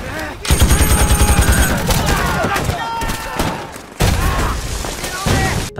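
Gunfire in a film scene set during the Japanese occupation, where a group of Korean men open fire on Japanese soldiers: rapid bursts of shots and booms, loud and dense, with a voice partly mixed in.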